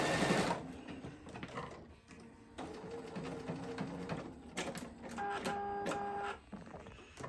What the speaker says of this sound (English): I'm going to do some back stitching on this just to make sure it's nice and tight and locked in.